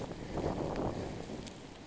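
Cold wind blowing during a snow blizzard over a snowed-in neighborhood, a steady low rushing roar buffeting the microphone with no voices.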